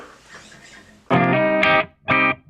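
A 1994 PRS CE24 electric guitar through its regular Norton pickup, played dry with no chorus or reverb: two loud, sustained strummed chords, the first ringing about three-quarters of a second, the second shorter, alone without talk.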